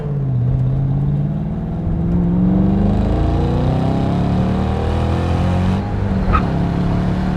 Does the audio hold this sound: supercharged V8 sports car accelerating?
yes